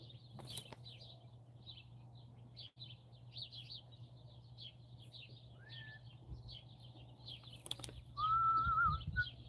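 Small birds chirp and tweet repeatedly in the background, with scattered high calls and a couple of whistled notes over a steady low hum, faint and distant throughout.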